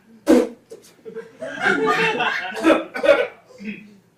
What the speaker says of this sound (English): I had a cough kicked out of my throat